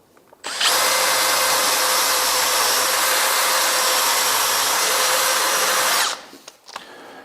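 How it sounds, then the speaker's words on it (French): A drill with a thin 3 mm bit whines at a high, steady pitch for about five seconds while pre-drilling a guide hole at a woodworking bench, then winds down, with a few small clunks after. "je pré-perce avec une mèche toute fine, 3 mm"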